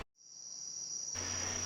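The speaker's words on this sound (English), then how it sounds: "Our native tree frog sounds like this." Native tree frogs calling at night on St. John, heard as a steady, sustained high-pitched trill that holds without a break, with a denser chorus of night sounds swelling in near the end.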